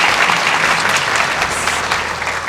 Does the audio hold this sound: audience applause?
yes